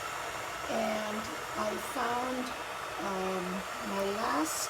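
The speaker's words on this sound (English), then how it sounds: "So what you're hearing is my kettle boiling away" A kitchen kettle at a full rolling boil gives a steady, rushing roar through the whole stretch, with a person talking over it.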